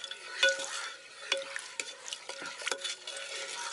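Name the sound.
stirring apple cider vinegar into chicken in pressure cooker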